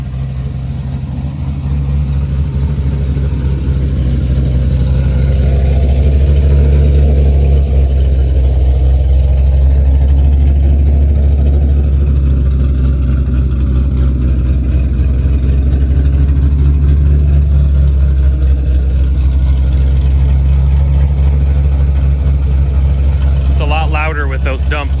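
1967 Chevy Nova with a swapped 5.3 LSA engine and exhaust dumps driving on its first outing, a steady deep engine rumble that holds throughout, with talk over it.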